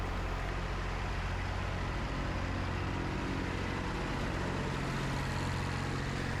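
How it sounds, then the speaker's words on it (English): Tractor engine running steadily while driving a straw blower through a PTO shaft, a continuous loud low rumble with a broad mechanical roar and no breaks. "So PTO shaft hooked on, tractor running."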